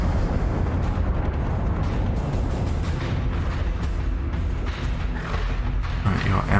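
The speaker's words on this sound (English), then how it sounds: "Second base part is exploding" A section of a space station explodes in the Battlestar Galactica Deadlock space combat game, giving a sustained rumbling blast and crackling booms amid continuous battle noise, with a voice talking over it.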